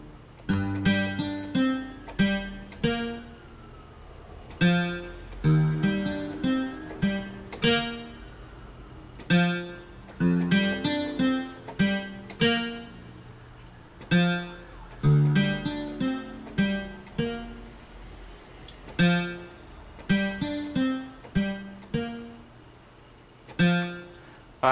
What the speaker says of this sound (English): So running through that slowly, it's gonna sound like this.